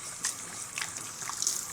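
Water running gently from a salon basin spray at raised pressure while tint is rinsed off a client's hair, a steady soft hiss with small splashy surges.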